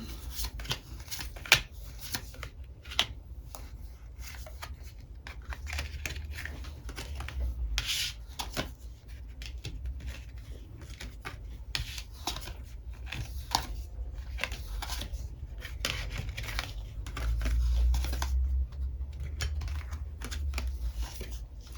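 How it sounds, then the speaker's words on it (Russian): Playing cards laid out and discarded during a fortune-telling spread, soft close rubs, flicks and light slaps of cards on a surface, scattered and irregular across a quiet background, without speech. "Дальше выбрасываем парные карты."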